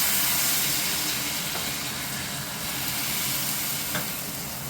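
Chakli pithe batter fries in white oil with a steady, dense sizzle and crackle that runs unbroken throughout, close and fairly loud.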